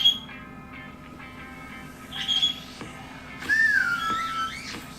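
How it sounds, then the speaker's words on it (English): Pet bird attempting to whistle indoors, producing a few short squeaky whistled notes and a longer wavering upward-sliding whistle near the end, over quiet background with faint clicks. "Well, that was almost a whistle."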